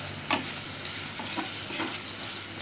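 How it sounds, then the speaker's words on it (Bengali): Homemade chicken noodles fry lightly in a pan with a steady, close sizzle and a few soft stirring scrapes, and no one speaks. "এবার হালকা একটু ভেজে নেব।"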